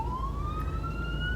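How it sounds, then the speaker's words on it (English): Ambulance siren wailing steadily in a city street, a single rising tone that sweeps upward slowly and holds near and fairly loud over low traffic rumble, with no talk. "Paramedics, now ambulance."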